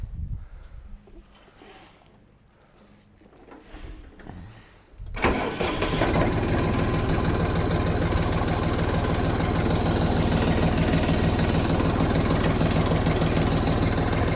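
A Forte XT244 mini tractor engine cranks and catches about five seconds in, then settles into a loud, steady, close idle that continues to the end, after quieter background sounds.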